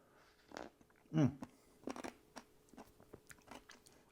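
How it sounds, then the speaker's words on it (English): Peppermint candy crunches loudly in someone's mouth, a few sharp bites and chewing crackles close to the mic in an otherwise quiet room. "The crunch of the candy"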